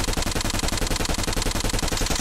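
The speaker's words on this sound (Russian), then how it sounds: "Плюс звук стрельбы станет максимально вайбовым." Rapid suppressed automatic fire from a Krig 6 rifle with an agency suppressor in Call of Duty Mobile battle royale, a steady rattling burst of closely spaced muffled shots running continuously and loud throughout.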